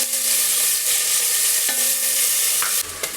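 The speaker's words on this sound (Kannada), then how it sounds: "ನಂತರ ಇವಾಗ ನಾನು ಈರುಳ್ಳಿನ ಹಾಕೋತಾ ಇದ್ದೀನಿ" Onions sizzling steadily in hot oil in a pan while being stirred, with close scraping and clinking of the spoon against the pan, cooked for avarekalu akki uppittu.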